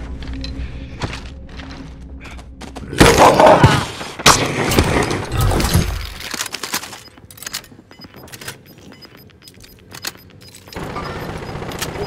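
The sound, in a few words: gunfire in Call of Duty video game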